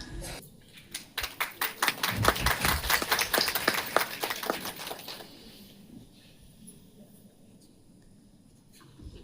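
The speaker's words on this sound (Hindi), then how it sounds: "तालियां नहीं रुकनी चाहिए" A small audience claps at a Sakha Trust gathering in Dehradun, the applause building fast into a dense burst of distinct hand claps, then thinning and fading to scattered quiet claps and room noise.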